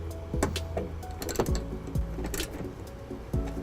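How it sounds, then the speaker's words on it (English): A 10mm socket ratchet tightens a ground wire bolt to the body of a 2008 Nissan Rogue, giving close, repeated clicking strokes with short pauses between them, with no one talking. "we'll tighten it up with our 10mm socket"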